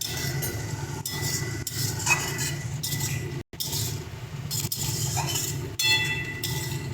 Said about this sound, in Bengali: টক দইটা দিয়ে বেশ ভালো করে নাড়িয়ে চাড়িয়ে মিশিয়ে নেব